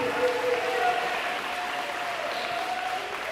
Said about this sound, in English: So if we could give a really big round of applause for Kirk Techmeyer.